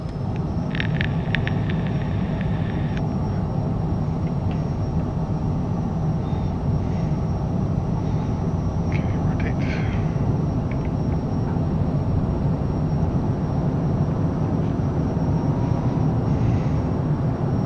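A Cessna Citation CJ4 jet in Microsoft Flight Simulator rolls for takeoff with a steady, loud engine roar and broadband rumble throughout, plus a few faint clicks early on and no talk.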